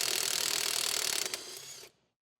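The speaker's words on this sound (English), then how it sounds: "use an 18mm socket to remove the top hat nut" A socket wrench ratchets rapidly off the top hat nut of a coilover on a 2013-2020 Ford Fusion, a dense, loud, close clicking burst lasting about two seconds before it stops abruptly.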